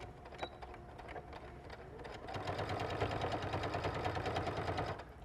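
A sewing machine back tacks at the bottom of a lining seam, a few slow stitches and clicks giving way to a loud, steady, fast-pulsing motor run that stops abruptly near the end.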